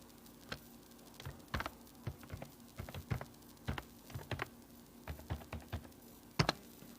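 A username and password are typed on a computer keyboard in quick, irregular bursts of crisp close key clicks against a quiet background, with no talking.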